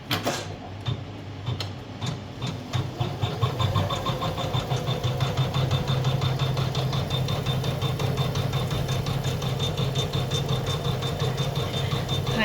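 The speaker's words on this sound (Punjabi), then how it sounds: "ਹੁਣ ਆਪਾਂ ਕਰਾਂਗੇ ਮਸ਼ੀਨ ਸਟਾਰਟ" Sewing machine doing cut work on a design set in a frame starts up and settles into a fast, even mechanical chatter of rapid stitching with a steady hum, loud and close throughout.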